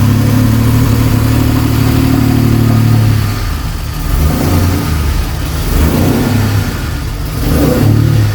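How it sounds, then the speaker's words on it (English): A DeLorean with a Volvo 2.7 engine and a club exhaust revs loudly and close up in a garage. Its deep, fruity idle swells into several throttle blips and then drops back, with no talking. "it's got the club exhaust on this, which is why it sounds a bit more fruity."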